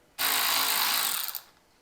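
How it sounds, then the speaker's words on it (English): A power drill or impact driver spins out a 10mm bolt beside a Jeep battery, one close, loud whirring burst of about a second and a quarter that winds down at the end. "we're going to take out this bolt right here. It's a 10mm."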